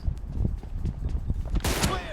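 Sniper rifle fire in the mobile game BGMI during a team deathmatch, with sharp shots and rapid bursts in quick succession and a loud crack near the end.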